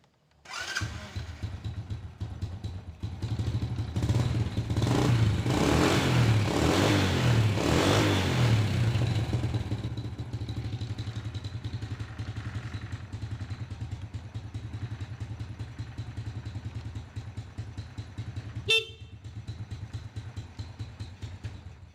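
A 2007 Honda Supra Fit motorcycle engine starts and runs, louder and rougher in the first ten seconds before settling into a steady close idle, with a sharp click near the end.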